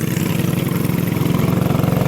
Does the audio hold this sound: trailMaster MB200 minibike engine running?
yes